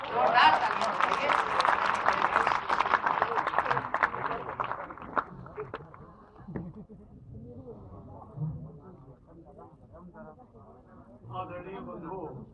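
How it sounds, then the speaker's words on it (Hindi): Audience applause at a Hindi poetry recital: loud, dense clapping fills roughly the first six seconds, then fades into quieter voices and talk. "जोरदार तालियां बजाइए।"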